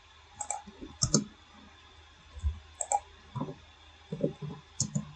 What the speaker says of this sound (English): So I'm just clicking over it.